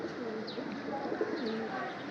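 Pigeons coo softly at a loft, several low throaty coos overlapping in quick succession, fairly faint with a quiet background.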